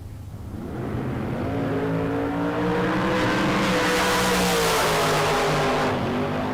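Drag race cars launch down the strip at a bracket race, a loud sustained engine roar with rising revving harmonics and a brief tire squeal, continuous and close throughout.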